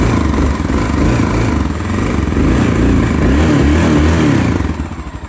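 A hotwired 1988 Honda XL600R motorcycle engine runs loud and close, a rough, steady thumping idle with lumpy pulsing that drops off near the end.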